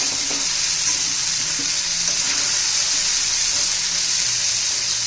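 Abhay bean pods stir-frying in a pan, a steady loud sizzle and hiss running unbroken from start to finish with faint stirring underneath, no voices.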